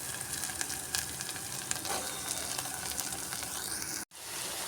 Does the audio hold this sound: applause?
no